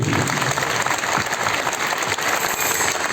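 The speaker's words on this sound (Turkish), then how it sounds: "Ben hepsine özellikle tekrardan sizden bir alkış istiyorum." An audience applauds at a singing competition event in Erbaa, a dense, even wash of clapping held steady and loud throughout, with no speech over it.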